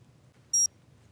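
An Xtra Atto action camera gives a single short, high electronic beep as recording starts, clear against a faint background hum.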